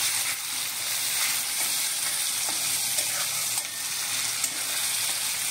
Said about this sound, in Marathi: टोमॅटो पण चांगला भाजून घ्या।